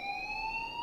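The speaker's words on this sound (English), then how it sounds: "please turn off that alarm since that's your job" A fire alarm in the video game Life is Strange sounds as a brief, steady, piercing electronic tone with harmonics, sustained and unbroken, heard alone.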